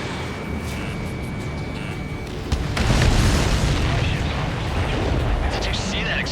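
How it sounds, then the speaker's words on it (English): A supply ship blows up in the Ace Combat 7 flight game, a deep rumbling boom swelling midway over steady jet and engine noise. "Did you see that explosion?"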